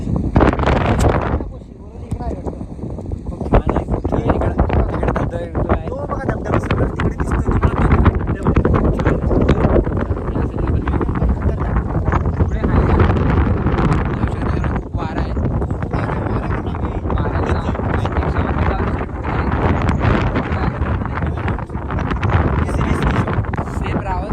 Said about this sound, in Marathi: काय वारा आहे वारा एवढा असा नुसता उडत जाशील